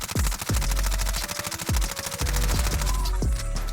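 Bursts of MP5 submachine gun fire in a video game, shot without recoil control: loud, close, rapid automatic shots with sharp booming reports, fired in several short strings that run together over a few seconds.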